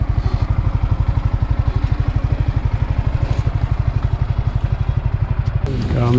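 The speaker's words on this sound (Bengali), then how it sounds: "এখানে তিনটা বাইক আসছে একসাথে" At a rural village fair, motorcycles roll by together with a loud, close, rapidly pulsing engine chug that stays steady throughout.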